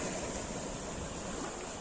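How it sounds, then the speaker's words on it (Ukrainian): Waves of the Tyrrhenian Sea wash steadily at the beach at Torvaianica, a continuous soft roar of surf with wind noise and no distinct breaks. "Давайте вам ще трошки морюшка покажу. Клас, да? Такі хвильки"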